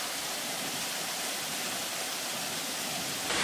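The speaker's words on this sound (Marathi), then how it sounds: "आता कमी प्रवाह आहे त्यामुळे धबधब्यांचा सुंदर आवाज ऐकू येतो" Waterfall at Amboli ghat with low flow: a steady, even rush of falling water, continuous and moderately distant, with no other sounds standing out.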